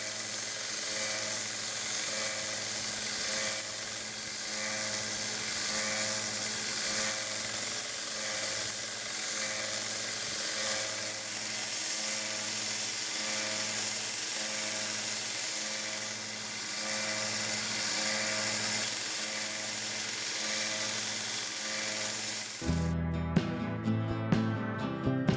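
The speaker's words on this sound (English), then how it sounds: "Here's the screwdriver blade so far. I moved on to the 240 grit belt." Belt sander fitted with a 240 grit belt grinding the screwdriver blade of a Camillus TL-29 pocket knife, a continuous faint whirring hiss for over twenty seconds, ending in a short burst of clatter.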